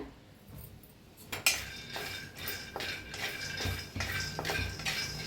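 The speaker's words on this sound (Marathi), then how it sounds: "शेंगदाणे भाजून घेऊया आपण। लोखंडाच्या कढईत बनवूया।" Peanuts roasting in an iron wok while being stirred: close, repeated metallic scrapes and clinks with a rattling texture, recurring in uneven bursts, with no voices.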